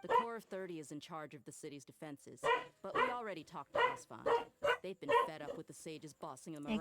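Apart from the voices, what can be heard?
dog barking outside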